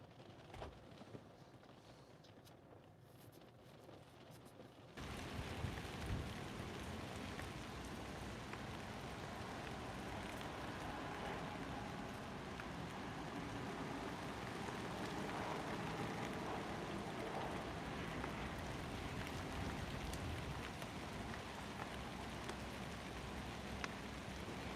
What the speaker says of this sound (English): the rain's coming down here.